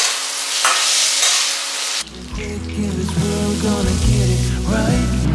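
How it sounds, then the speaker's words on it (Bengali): Potatoes fry in a hot pan with a steady hiss, then the sound abruptly turns heavier and deeper, with bubbling and spattering filling the rest of the clip. "আর একসাথে সব দিয়ে ফ্রাই করে মশলা দিয়ে জল ঢেলে দেবো"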